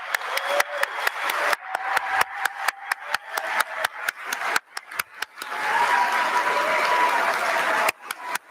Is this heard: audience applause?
yes